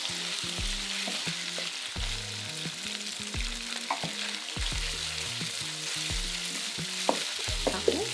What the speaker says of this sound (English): we're gonna go ahead and add our mushroom. And give that a stir.